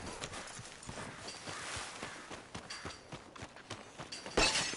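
Horse hooves clip-clopping in a PS4 game, a steady run of light, close hoofbeats with scattered clinks, quiet throughout and with no talk, ending in a brighter crash.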